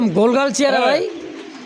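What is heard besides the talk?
pigeons cooing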